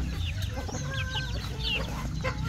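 Backyard hens and roosters cluck and call steadily, with overlapping bird vocalizations close by and a low rumbling background hum throughout.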